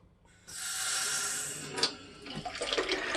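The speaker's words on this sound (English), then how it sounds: "let me just start the water here" Water from a kitchen tap starts running and streams steadily into a sink, a broad continuous hiss that holds for several seconds before breaking into splashier, uneven spatter near the end.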